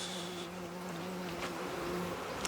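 Honey bees buzz at a hive entrance with a reduced entrance block, a steady close droning hum from several insects carrying on without pause.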